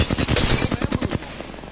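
Rapid automatic gunfire in the Apex Legends video game: a close, loud string of evenly spaced shots that stops abruptly, leaving a fading echo tail.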